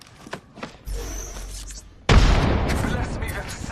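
A frag grenade goes off in a first-person shooter, a sudden loud boom that lands midway and rolls into a dense crackling rumble. An earlier low thump sits beneath quieter game noise.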